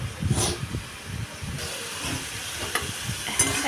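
Masala spices fry in oil and are stirred around a pan, making a close hiss and sizzle broken by repeated scraping stirs and soft thuds from the spoon, with no talking.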